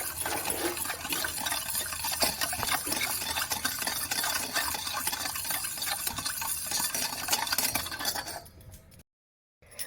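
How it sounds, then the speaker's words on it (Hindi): Cake batter being mixed with sugar in a bowl, a steady wet stirring with light clinks of a spoon against the bowl that cuts off into silence at the end, no voices. "तो भल भाव मिक्स करवा चीनी सह"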